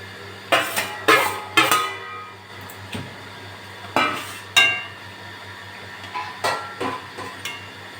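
Pieces of rohu-type fish dropped into a pot of simmering taro-root curry, giving several sharp clattering knocks and scrapes in short clusters, close and fairly loud over a steady low kitchen hum.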